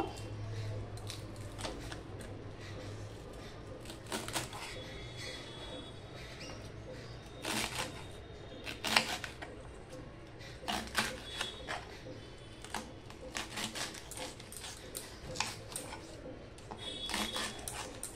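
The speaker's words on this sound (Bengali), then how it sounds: "তার জন্য প্রথমে আমি পেঁয়াজ কলিগুলো কেটে নেব।" Spring onion stalks are chopped with a knife for a piyaj koli dish: scattered crisp taps and clicks, close and fairly faint, come in uneven bursts over a low background hum, with soft voices in places.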